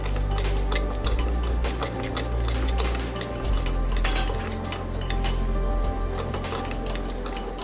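Moong dal roasting in a pan on a low flame, a spoon scraping and clinking against the metal in steady, repeated stirring strokes, close and fairly quiet.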